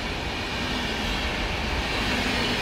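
An EU160 Griffin electric locomotive hauling the IC Słowiniec passenger train rushes past, a loud, steady rolling roar and hiss of wheels on rails throughout.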